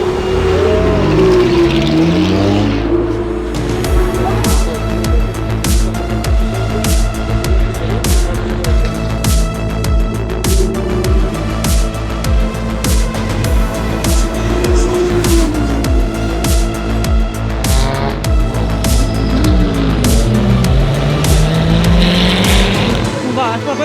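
Race cars at the Aurum 1006 km endurance race roar past nearby, with continuous loud engine drone, repeated revving, gear changes and Doppler sweeps as cars pass, while voices talk over the steady racing noise.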